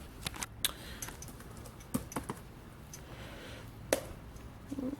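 Keys tapped on an iBook G4 laptop keyboard while entering a login, a handful of sparse, separate clicks at irregular intervals, close and fairly quiet, with no talking.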